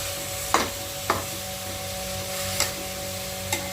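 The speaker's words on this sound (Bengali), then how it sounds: "তারপরে ভালো করে নেড়ে চেড়ে" Pumpkin and coconut stir-fry is turned in a pan, four distinct scraping strokes of a spoon spaced about a second apart over a low steady sizzle and hum, no talking.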